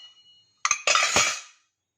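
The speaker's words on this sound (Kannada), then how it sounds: "ಇದನ್ನು ಕುಕ್ಕರ್ಗೆ ಹಾಕ್ಕೊಂಡು ನೀಟಾಗಿ 3 ಸಲ ಚೆನ್ನಾಗಿ ತೊಳ್ಕೊತೀನಿ" Toor dal being washed in a pressure cooker: a quiet start, then a couple of sharp clinks and a short splashing, rattling burst of grains and water against the metal pot that fades out.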